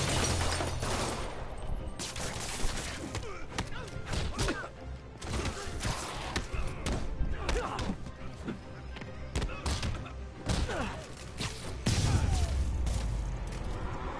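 Gunfire from criminals in a Spider-Man video game, sharp bursts and thuds scattered through busy game action, fairly faint overall, with a short voice shout near the start.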